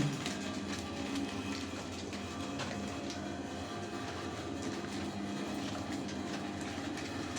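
A semi-automatic packaging machine forming packets runs with a continuous loud mechanical clatter and rhythmic rattling over a steady drone, with no talking.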